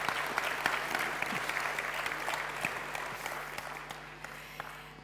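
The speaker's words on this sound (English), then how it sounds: "And a round of applause for this, because only Innovation Labs can pull this." An audience claps at an Innovation Labs demo day, a steady dense patter of many hands that gradually thins and fades over several seconds, with no one speaking over it.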